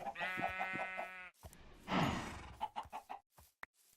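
Chickens in the video game Sky Factory 2.5 cluck and squawk in quick, rhythmic bursts, followed by a few scattered, softer clucks.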